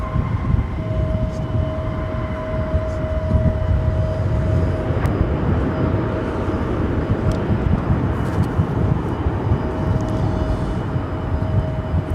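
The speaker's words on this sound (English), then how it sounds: "That was American Airlines Flight 2203 coming in from Minneapolis, 737-800" An American Airlines Boeing 737-800 arriving from Minneapolis lands at DFW airport with a loud, steady jet roar and a faint whine held throughout.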